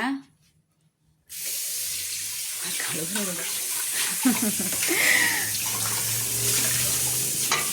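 After a moment of silence, water gushes steadily, splashing and swirling as it is poured and sloshed around inside a wet grinder to rinse out idli and dosa batter, close and loud.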